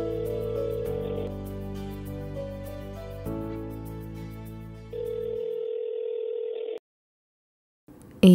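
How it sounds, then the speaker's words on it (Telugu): Outgoing telephone call with a steady ringback tone cycling in long pulses, a brief pause, then a click at the end; clear and fairly quiet, with no talking over it. "రెడ్డికి కాల్ చేద్దాం, ఆగు."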